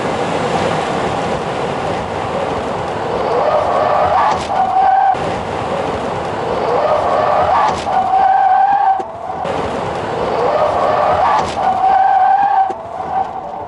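A Tesla Model S Plaid roars at around 260 km/h on a race circuit, then its tires screech and skid under hard braking in repeated loud bursts, heard close and continuous.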